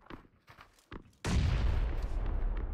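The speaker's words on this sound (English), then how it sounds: "Oh, the frag went out right next to him." A frag grenade blows up in the PUBG video game, a sudden loud blast that rolls out into a long rumbling tail, preceded by a few faint scuffs and footsteps.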